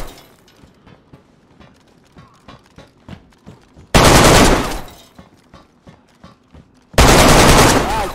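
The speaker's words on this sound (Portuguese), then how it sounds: "Jogou granada em mim." Grenade blasts and gunfire in the DayZ airfield at Vybor: faint scattered shots and clatter, then two loud, sudden broadband explosions, each roaring for about a second and decaying.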